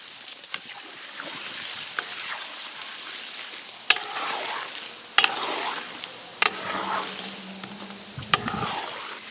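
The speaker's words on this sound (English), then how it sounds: "make pork rinds over an open fire in the open in the country" Pork rinds frying in a pot over an open fire outdoors in the countryside, a steady soft crackle and sizzle with occasional sharp pops and stirring clacks, close and continuous with no talk.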